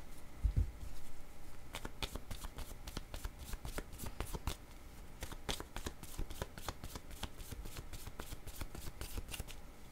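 A deck of cards is shuffled over and over in close, rapid riffling bursts that patter with crisp flicks. A brief low thump comes early, and the shuffling carries on without any talk.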